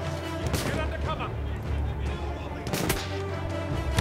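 Battlefield 1 gunfire rattles as repeated rifle and artillery shots under a constant battle din, with sharp cracks punctuating the noise and voices talking over it.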